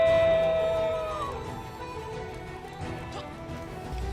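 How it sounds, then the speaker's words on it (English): A single long wolf howl rings out loud and close, its steady tone sliding gradually downward before trailing off into the background. "the Mist Wolf stood upon a stone in the center and released a long howl"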